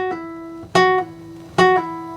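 Guitar pull-offs played sloppily, two plucked attacks spaced apart with ringing harmonic notes that decay unevenly and with muddy transitions between notes, close and moderately loud with no talking.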